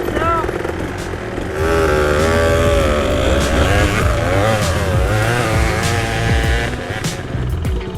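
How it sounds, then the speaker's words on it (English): A Kawasaki KDX200 two-stroke dirt bike engine running close and loud, lugging along in a higher gear with a steady droning note and wavering pitch, with a voice speaking over it. "you can really kick this thing up into a higher gear and it'll just lug along"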